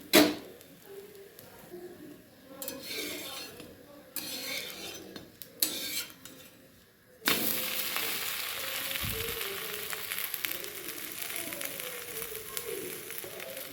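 Fasting dosa roasts on a pan. Intermittent soft scrapes and clatters of a utensil come first, then a loud continuous sizzle takes over for the second half, close by and with no talk.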